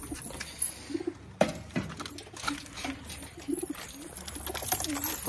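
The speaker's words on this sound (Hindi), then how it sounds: "चार कबूतर घुस रहे हैं इसमें" Pigeons kept by a Punjabi pigeon fancier coo in soft repeated phrases up close, with wing flutters and scratchy pattering around a loft, no talk.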